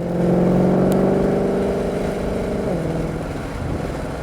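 A 2020 Shelby GT500 Mustang accelerates on a racetrack at Nelson Ledges Raceway, its engine note loud and close, climbing steadily in pitch, then dropping sharply at an upshift before building again, with no talking.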